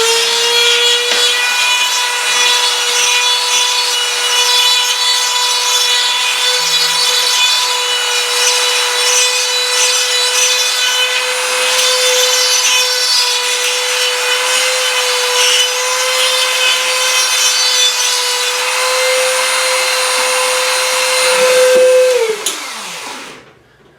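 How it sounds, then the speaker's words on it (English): A Dremel rotary tool grinds to widen a shower drain opening, a loud, steady high-pitched whine with abrasive scraping that holds for about twenty seconds before the motor spins down. "So when I'm grinding this drain opening to get this to fit"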